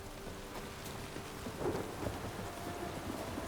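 Rain falls steadily in The Witcher 3 video game while low thunder rumbles faintly in the distance, swelling briefly midway, with no speech over the soft, even patter.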